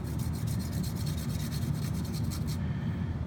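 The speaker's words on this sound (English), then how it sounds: "Just a quick back and forth with the paintbrush." Paintbrush bristles rubbing back and forth on a model coal car during weathering, a steady close scratchy brushing that continues evenly and stops near the end.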